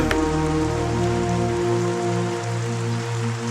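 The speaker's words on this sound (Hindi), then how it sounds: "अच्छी बारिश हो रही है" Steady heavy rain falls outdoors near a riverbank with no boats around, a dense constant hiss with low rumbling underneath and no voices.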